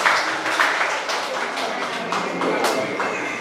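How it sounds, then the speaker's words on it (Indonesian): An audience at a digital marketing training session in a school hall claps for several seconds, a fairly soft, steady patter of hands with scattered sharper claps. "Beri tepuk tangan Bapak Ibu."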